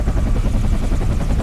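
Sikorsky UH-60 Blackhawk helicopter in the X-Plane flight simulator, a loud, continuous rotor thump and turbine rumble sustained without pause.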